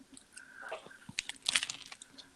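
A crunchy bite into a sandwich of crunchy peanut butter, grape jelly and Doritos, heard as a few quiet, close crackling crunches followed by chewing, with no talking.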